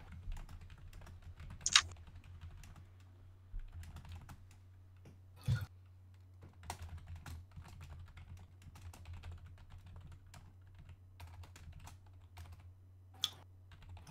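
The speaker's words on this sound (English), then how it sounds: "There's typing." Keys on a computer keyboard are tapped in soft, irregular bursts, quiet and close, over a steady low hum with a few sharper clicks.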